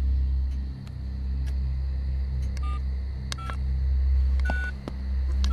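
Telephone keypad tones as a number is dialed to call the police, a string of short beeps over a low, steady rumble.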